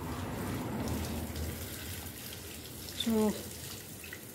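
Water poured from a tap or container onto wilting potted plants during hot weather, a faint splashing trickle with a brief spurt near the end, under a few spoken words.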